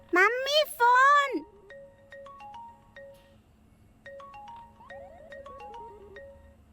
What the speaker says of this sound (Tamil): Mummy phone.